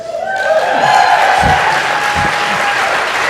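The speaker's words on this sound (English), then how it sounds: "one more round of applause for all the speakers who are coming up on stage" An audience at an Ignite Lincoln talk event claps loudly and continuously for a few seconds, dense and close, with faint voices mixed into the applause.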